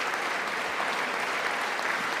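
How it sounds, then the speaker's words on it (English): Continuous loud applause from a large audience at a State of the Union address, a dense uninterrupted roar of clapping with no voices on top. "it's just friggin' applause"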